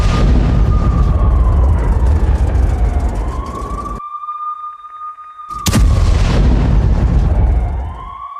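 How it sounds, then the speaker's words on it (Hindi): A siren wails close and loud in Jenin during an attack on an Israeli army bulldozer, its pitch sweeping down and back up, cut by a sudden sharp burst before the wail resumes. "इजरायली सेना के बुलडोजर पर बमबारी की गई है"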